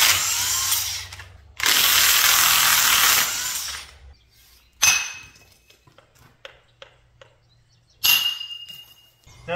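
A mechanic works on the pitman arm of a Ford F250 pickup that sat in a horse pasture for eight years, running a power tool to tighten a puller in two long, loud bursts, followed by scattered metallic clinks and a final short burst.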